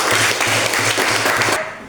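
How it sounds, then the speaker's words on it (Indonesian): Applause for a student group at a Catholic religious education presentation, a short, fairly loud burst of clapping from a small audience that stops abruptly near the end. "tepuk tangan untuk kelompok 1."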